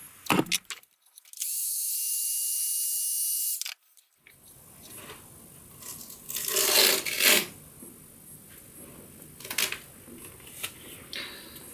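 Heated duct tape worked on a 1963 Fender Brownface Deluxe amp cabinet to lift paint: a loud steady hiss from a heat source, then close scraping, rubbing and tearing noises of tape and finish.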